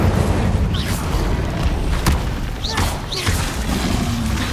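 Spell effects cast in the Hogwarts Legacy video game, a few whooshing magical bursts over a dense, booming game soundscape, with a voice calling out spells.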